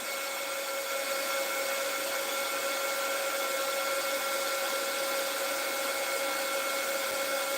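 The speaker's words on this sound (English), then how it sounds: "This is just that little, this is for embossing. This a little heating tool." A small handheld embossing heat tool blows hot air over a craft project on an upcycled wooden block, a loud, steady whirring hum with a faint tonal whine, close and unbroken.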